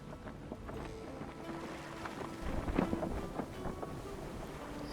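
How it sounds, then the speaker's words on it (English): Sailing a boat across open water in the survival game Stranded Deep brings a soft, steady rush of wind and sea noise, with faint creaks and splashes rising slightly midway, and no talk. "So I'm gonna sail towards it for a little bit."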